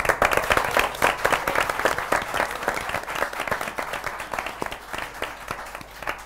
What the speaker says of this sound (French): Allez, le fair play, on s'applaudit.